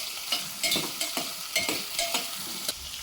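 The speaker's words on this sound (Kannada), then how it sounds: "ನುಗ್ಗೆಕಾಯಿ, ಈ ಎಲ್ಲ ಥಿಂಗ್ಸನ್ನು ಹಾಕ್ಕೊಂಡು ಒಂದು 2 ನಿಮಿಷ ಫ್ರೈ ಮಾಡ್ಕೊಳ್ತೀನಿ." Drumstick pieces and vegetables frying in a pan for bisibele bath, a continuous sizzle broken by repeated sharp scraping stirs of a spatula at a steady rhythm, close and fairly loud.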